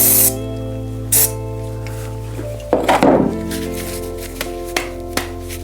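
Speed degreaser sprayed from a can onto 1990s Specialized Hard Rock mountain bike parts in several short hissing bursts, one longer spray in the middle, with a steady hum and a few light knocks behind.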